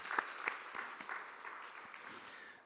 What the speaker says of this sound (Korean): 그 아이들을 격려하는 마음으로 다시 한번 박수로 우리 아이들 격려할 수 있으면 좋겠습니다